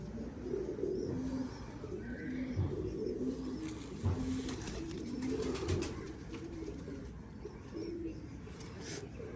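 Pigeons coo softly and repeatedly at a moderate distance, the low rhythmic calls recurring every second or so against quiet background noise.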